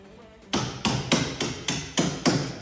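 A hammer strikes a coilover suspension part on a crashed Honda CR-V in a garage, seven sharp metallic blows at a steady, fairly quick rhythm, close and clear with no talking.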